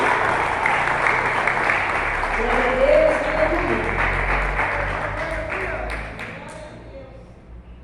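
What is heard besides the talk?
church congregation clapping for Jesus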